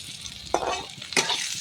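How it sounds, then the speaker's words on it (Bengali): Pointed gourd (potol) pieces frying in oil in a pan, giving a steady close sizzle with two brief bursts of stirring scrapes, no talk. "বন্ধুরা পটল লাল লাল করে ভেজে নিয়েছি দেখো কত সুন্দর লাল লাল করে ভাজা হয়েছে"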